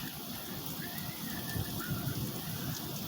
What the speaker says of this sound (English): Really pouring. You can see, really pouring rain.